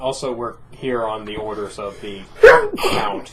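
One sharp sneeze bursts out among people chatting at a Dungeons & Dragons tabletop session, loud and close, with talk before and after it.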